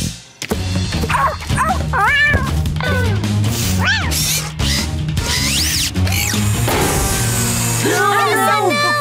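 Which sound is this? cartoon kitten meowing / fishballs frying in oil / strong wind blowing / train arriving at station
cartoon kitten meowing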